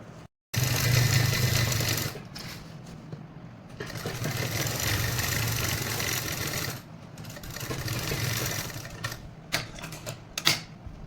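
A sewing machine stitches a zip onto a salwar pocket in several long, steady runs of rapid whirring broken by short pauses, ending in a few scattered clicks and taps.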